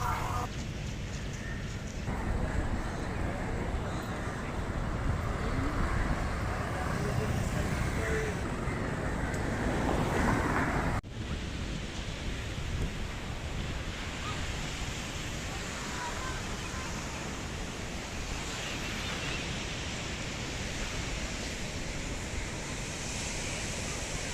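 Ocean waves breaking on the main beach at Colombo, Sri Lanka, a continuous broad roar of surf with wind rumble on the microphone, steady and fairly loud for the whole stretch.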